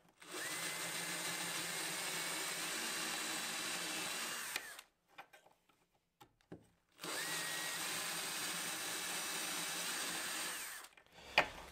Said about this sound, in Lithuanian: Išsimušam duobelę, kad būtų lengviau išgręžti. Pasiimam grąžtą.